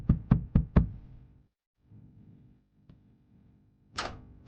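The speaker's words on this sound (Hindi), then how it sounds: "अगली सुबह मेरी नींद खुली एक दस्तक से" Four sharp, close knocks on a door in quick succession, then a quiet room with faint low rustling and a brief soft hiss near the end.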